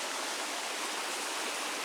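New Year's Creek near the waterfalls at Blowing Rock flows in a steady, hissing rush of water, broad and unbroken, fairly soft and even throughout, with no voices.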